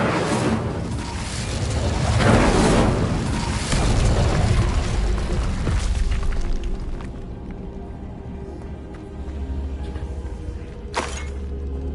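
Incendio fire spell cast in the Hogwarts Legacy video game, a loud roaring burst of flame that swells and rumbles for several seconds before fading into a steady low crackle, with a sharp flare near the end.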